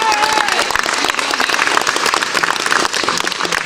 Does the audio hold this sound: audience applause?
yes